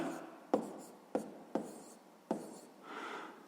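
A pen writes on paper during a sixth-grade maths exercise, with four sharp taps as it strikes the page and soft scratchy strokes between them, close and quiet, ending in a longer scratch.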